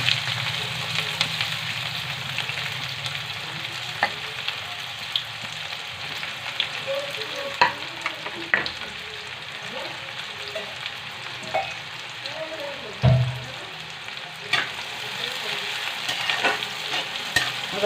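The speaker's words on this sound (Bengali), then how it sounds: "এবার যতক্ষণ না আমাদের পেঁয়াজটা লাল লাল হয়ে যাবে ততক্ষণ এটাকে ভাজতে থাকবো" Chopped onions and cumin seeds fry and sizzle steadily in a pan, with repeated scraping and stirring strokes of a spatula and a few louder knocks against the pan, close up.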